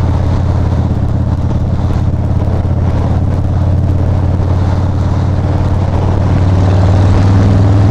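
Loud, steady motorcycle engine drone at speed on a highway with wind roar, the engine pitch climbing slightly as it accelerates toward the end.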